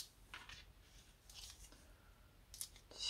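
Spring-loaded scissors snip paper for a round scrapbooking card, producing a few quiet, close crisp cuts spread over about three seconds with no talking.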